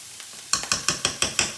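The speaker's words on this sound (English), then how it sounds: "I'm just going to cook those vegetables until they start to get a little more tender" Vegetables and minced garlic cooking in a pan, heard as a soft sizzle under a run of regular scraping stirring strokes, about six in quick rhythm, close and moderately loud.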